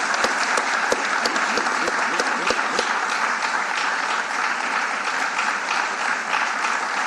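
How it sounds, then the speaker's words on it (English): Audience at a city council meeting applauding the coaches being recognized, a dense, steady round of clapping from many people in a large room, with a few sharp nearby claps standing out early before it settles into an even wash. "Can we all give a nice round of applause to all of our coaches,"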